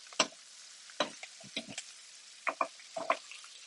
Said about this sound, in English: Make sure to give it a nice stir with the Swiss chard so that it wilts nicely and gets mixed in to the veg